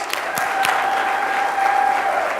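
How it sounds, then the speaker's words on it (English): Sustained audience applause at a live leadership event, a steady crowd wash with a few sharper nearby claps and a thin steady tone running through it. "Give us a round of applause"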